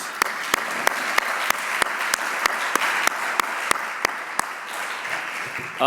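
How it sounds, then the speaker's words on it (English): A round of applause for twelve committees, with a crowd clapping steadily while one pair of hands near the microphone beats a loud, regular rhythm over it before the clapping fades and a voice begins. "Let's give a round of applause for all 12 committees."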